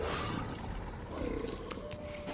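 A werewolf-like Lycan creature from the PS4 game The Order: 1886 lets out a deep, sustained roar, loud and close, filling the whole moment without any speech over it.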